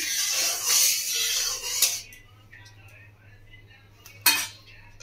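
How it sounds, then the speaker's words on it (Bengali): A metal spatula stirs hot oil in a wok, scraping for a couple of seconds before quieter shuffling, with one sharp metallic clink near the end. "তেলটা একটু খুন্তি দিয়ে এভাবে একটু নাড়িয়ে নেব।"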